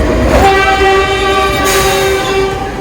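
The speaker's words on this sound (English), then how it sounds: "The train is coming." A vintage train passing right beside a street in Kamakura, loud and close, with a sustained horn tone over a steady rumbling roll.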